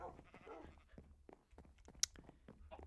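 A sheep bleating in the video game Minecraft, with a few short, quiet bleats and soft footstep-like sounds.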